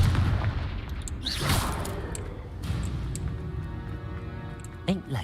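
The Confringo spell goes off in a video game with a loud booming blast and rumbling, crackling debris that trails away, followed by a sharp smaller impact near the end under game noise.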